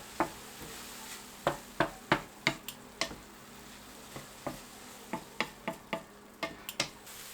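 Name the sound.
mushrooms sautéing in a pan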